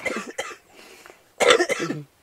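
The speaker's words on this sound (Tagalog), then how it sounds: "Ano yung ubo ni tatay?" An old man coughs roughly close by, a few softer coughs followed by a louder burst of two or three.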